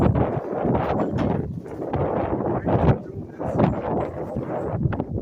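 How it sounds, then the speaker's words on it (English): Wind blowing hard outdoors, buffeting the microphone in rough, rumbling gusts that rise and fall for several seconds. "Naturally, the wind kicks up."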